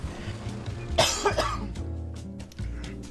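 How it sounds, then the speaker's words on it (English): A single close cough bursts out, followed by a short throaty rasp, over a faint low background hum. "excuse me for the cough"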